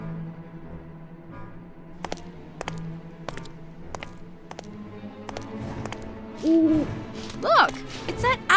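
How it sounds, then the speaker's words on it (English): An owl hoots in the video game Keepsake, a few soft tonal calls rising late over a steady ambient game soundscape with occasional sharp ticks. "Look! It's that owl again!"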